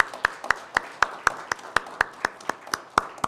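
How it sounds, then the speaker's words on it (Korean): A church congregation at a Sunday service claps in a steady, even rhythm to encourage children seated at the back, with about a dozen evenly spaced sharp claps at moderate loudness. "이들을 격려하는 마음으로 박수로 함께 격려해 주겠습니다"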